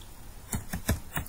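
A computer keyboard typing a short terminal command, four quick close keystrokes in an even rhythm, no talk.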